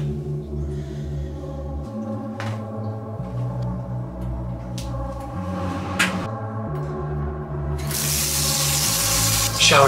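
Water runs steadily from a shower in a home bathroom for about ten seconds, a constant rushing wash with a hum underneath, growing a little louder and brighter toward the end, with no voices.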